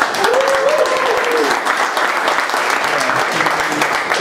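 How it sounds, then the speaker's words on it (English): An audience at a speech event bursts into steady, dense applause that fills the whole stretch, with a voice briefly audible at the start. "let's give a big hand of applause to Aya and Asiya again"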